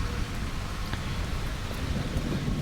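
Rain falls steadily as a dense, continuous hiss with faint scattered drops, loud and close throughout the brief stretch, with no voices.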